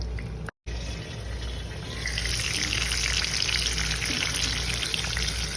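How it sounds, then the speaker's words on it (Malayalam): Fish fry pieces sizzling steadily in hot oil in a pan, a dense continuous crackle that swells louder after a brief gap, with no voices. "ആഹാ നമ്മുടെ മീനൊക്കെ ദേ ഒരു സൈഡ് ഫ്രൈ ആയി വരുന്നുണ്ട്"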